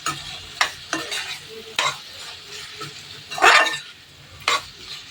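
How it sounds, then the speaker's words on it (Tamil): Tomatoes and rock salt are mixed in a pan, with repeated sharp scrapes and clinks of a spoon against metal over a light sizzle, close and fairly loud. "கல் உப்பு போட்டுட்டு நல்லா மிக்ஸ் பண்ணி விட்டுடலாம்"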